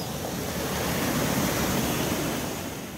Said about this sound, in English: Found a few waterfalls.